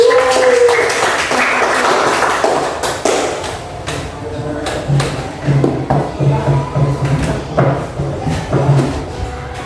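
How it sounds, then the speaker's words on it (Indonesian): Applause from a primary school class after a group's work is checked, a steady burst of many small hands clapping near and fairly loud, then thinning into scattered claps and thumps of children moving. "tepuk tangan"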